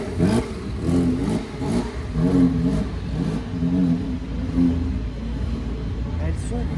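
Engine revving as a motorbike pulls away at a drift and tuning event, the engine note rising and falling in repeated surges under nearby chatter in French.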